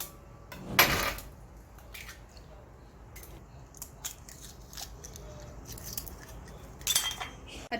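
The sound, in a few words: mixing eggs with pepper and salt in a bowl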